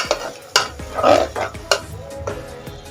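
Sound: stirring spice paste into mutton curry

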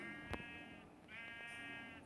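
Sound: sheep bleating, from a survival video game

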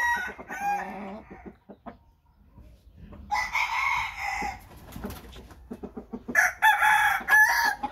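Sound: rooster crowing

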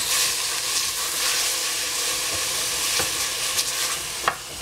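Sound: bean sprouts stir-frying in pan for sweet and sour veggies

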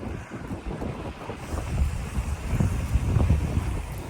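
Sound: wind blowing

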